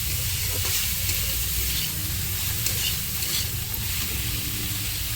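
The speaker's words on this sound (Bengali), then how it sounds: "সেদ্ধ করে রাখা মোচাটা আমি দিয়ে দেবো দিয়ে ভালো করে নাড়াচাড়া দিয়ে দেবো" Boiled banana flower stirred into hot spices in a frying pan, a dense steady sizzle with soft scraping of the spoon, close and continuous without pause, no voices.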